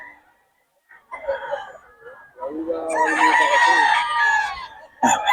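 A rooster crows loudly and close, a long harmonic call, with scattered clucking and faint voices before it and another crow starting at the end.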